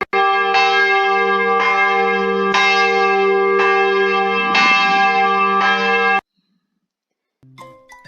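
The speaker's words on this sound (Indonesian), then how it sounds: "Contoh lonceng besi yang dipasang di gereja adalah sebagai berikut." An iron church bell rings loud and close with a steady, evenly spaced series of about six strong strikes, each one ringing on into the next. It then cuts off to silence, and a few faint tones follow near the end.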